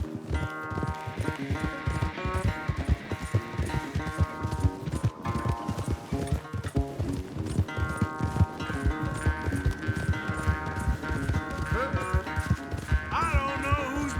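A horse gallops hard in the Red Dead Redemption 2 video game, its rapid rhythmic hoofbeats loud and steady throughout, with game music and character dialogue heard over the running.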